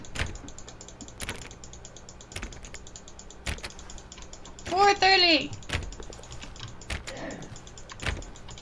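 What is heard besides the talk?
repeated mouse clicking on door in The Stanley Parable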